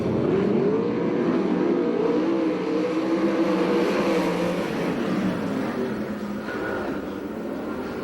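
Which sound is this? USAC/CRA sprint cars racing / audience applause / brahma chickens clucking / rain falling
USAC/CRA sprint cars racing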